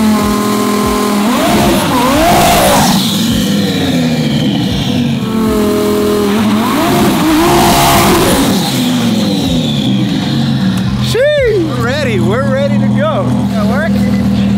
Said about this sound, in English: Sound of the 1016 exhaust, how it sounds before we cut it all up